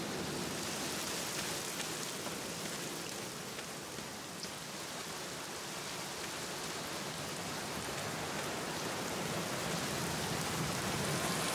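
Steady rain falls in the video game The Black Mirror, a dense, even hiss of downpour with no break, loud and continuous throughout with no talk.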